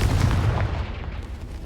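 A Confringo blasting spell explodes in Hogwarts Legacy, a heavy, booming blast with a strong low-end thump up front that decays into a rumbling tail.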